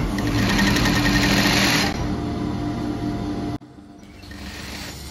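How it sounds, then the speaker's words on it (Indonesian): A sewing machine stitches a school uniform shirt, running loud and continuous up close before stopping abruptly. A quieter background hum follows. "kita mulai menjahit ya"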